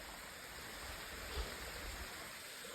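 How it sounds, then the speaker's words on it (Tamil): Stream water flowing at Valukuppari on a trek, a soft, steady rushing wash with a low rumble beneath it, continuous and fairly faint. "இங்கே பாருங்க எவ்வளோ தண்ணி வருதா"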